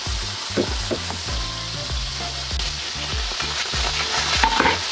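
A crushed garlic clove frying in olive oil in a pan, a steady close sizzle with scattered crackles and pops throughout, no voices.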